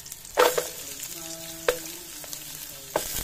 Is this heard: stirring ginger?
yes